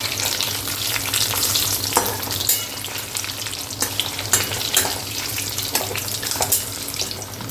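Steady, loud sizzling of small pieces frying in a pan, with occasional scraping and stirring sounds throughout.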